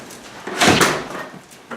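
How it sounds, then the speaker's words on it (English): A house door is pulled open with a rushing whoosh and a soft clunk near the middle, heard up close with a faint thump at the end. "will you go, Shannon, will you go open the door and let Murph come in?"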